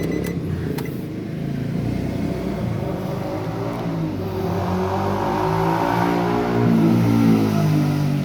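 A Nissan Grand Livina XV engine runs steadily at close range, with its low rumble rising slightly toward the end and no talking.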